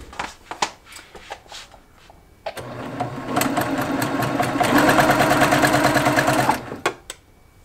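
A sewing machine stitches quilt fabric, with a few scattered handling clicks and taps first, then a steady loud whirring run of rapid stitching for several seconds before it stops.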